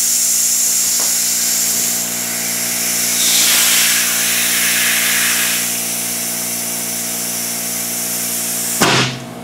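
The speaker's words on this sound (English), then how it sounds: "Tire machine's a little slow." A slow tire machine grinds with a steady high mechanical whine as it pulls the outer bead off a tire rim, droning close and continuous, then ends with a sudden clunk near the finish.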